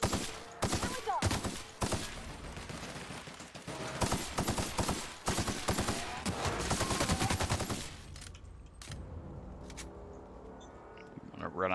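Rapid bursts of gunfire from a sci-fi shooter game in The Outer Worlds, dense repeated shots crackling for about eight seconds before thinning out, with a voice speaking over the fight.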